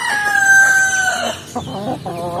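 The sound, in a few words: hens and young chickens clucking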